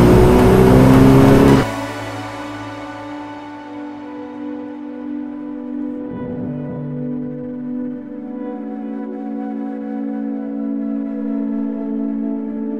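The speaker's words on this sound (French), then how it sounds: "c'est au volant de cette espèce de prototype de course qui n'a rien à faire sur la route et qui pourtant est bien homologué" A Dallara Stradale, a road-legal race car, gives a loud, close engine roar that drops abruptly to a steady, smooth drone with faint humming tones.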